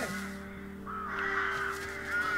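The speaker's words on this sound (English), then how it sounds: "Oh, the crows?" Crows caw in the video game Time on Frog Island, harsh calls rising over a steady droning musical background, fairly quiet and close, with no talking.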